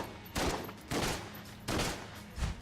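Four loud bursts of rapid gunfire from the video game Enter The Gungeon, each a short rattling volley with gaps between them, close and without talk.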